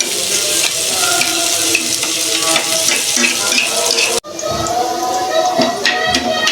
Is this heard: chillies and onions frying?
yes